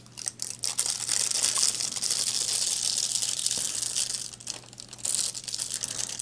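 Hot foil is peeled off a die-cut card background with a soft, close crinkling and rustling that comes in two bursts with a brief lull between.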